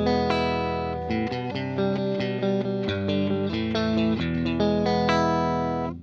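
Electric guitar fitted with boutique pickups played through effects: sustained, distorted chords ring together with a chorus-like shimmer, loud and continuous, with no talk.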